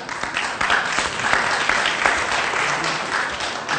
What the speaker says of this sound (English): don't clap me in my bourgeois party, clap Marx.